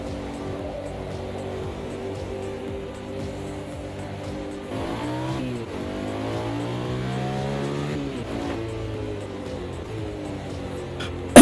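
Heavy four-wheel-drive race car with a big V8 engine in AMS2, its engine droning steadily then revving up and down through gear changes, moderately close with no talking.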